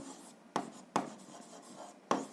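Pen strokes scratch across paper as someone writes by hand while solving an algebra exercise, three sharp taps marking pen touches amid soft steady scribbling, close and quiet.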